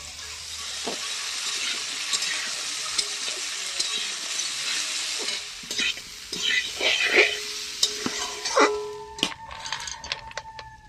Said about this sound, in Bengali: প্রথমে আমি ডালিয়াটাকে ভেজে নেব